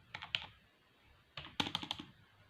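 Keys on a computer keyboard pressed while typing into a Word table, two quick bursts of close, crisp clicks separated by a short pause, with no voice.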